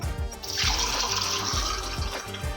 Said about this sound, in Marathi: आता सर्वात अगोदर मी यामध्ये पाणी ॲड करते